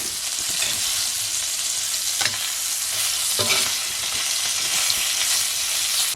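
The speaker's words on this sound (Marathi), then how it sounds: "बाकीचे ते फ्राय करून घेऊ." Small dokru fish frying in a pan, a continuous loud close sizzle throughout with occasional scraping stirs.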